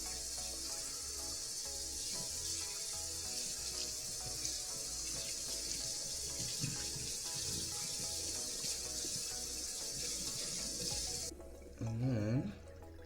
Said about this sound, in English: Now we need to wash off the hairpiece. I start by getting the hair wet.